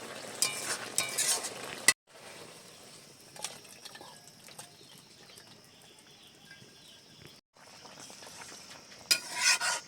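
Spoon stirring cumin and chili powder into vegetables in a pan, soft scraping and frying sizzle at moderate level, with brief louder clatter at the start and end.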